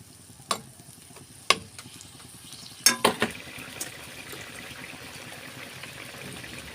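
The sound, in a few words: stirring bitter gourd vegetables in a pan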